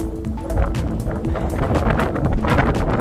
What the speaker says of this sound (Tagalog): Grabe ang hangin guys. Napakalakas.